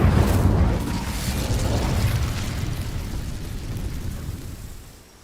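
A fiery Incendio spell bursts out in the Hogwarts Legacy video game, a loud whooshing blast of flame that roars at once and then slowly dies away over several seconds, with no talk.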